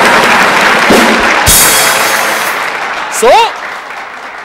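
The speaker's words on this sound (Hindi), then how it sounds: "तालियां" Audience applause at a live stand-up comedy show, a dense clapping wash running under a man's joking speech and a burst of laughter, steady and fairly loud throughout.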